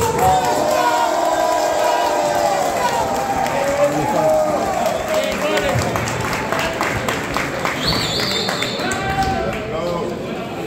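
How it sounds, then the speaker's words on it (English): A crowd at a street fight claps and cheers for the winner of a knuckle-up belt, dense continuous applause with shouting voices over it, fairly loud and close throughout. "everybody clap it up for 202"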